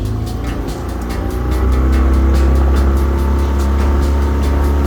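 A Mercury 9.9hp outboard motor converted to 15hp drives a small boat across a pond, its engine droning steadily and then rising in pitch and loudness as the boat accelerates, with wind and water noise throughout.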